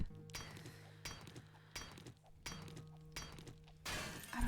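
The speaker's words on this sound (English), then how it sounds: "So these glass we can break." Glass panes shatter in the zombie survival game 7 Days to Die, with five or six sharp, crashing breaks at a regular pace, each followed by tinkling shards over a low ambient hum.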